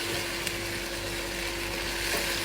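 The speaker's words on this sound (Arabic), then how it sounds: "ونحمس فيهم" Chicken, onion and tomato paste fry in a pot with a steady, soft, continuous sizzle and hiss and no talking.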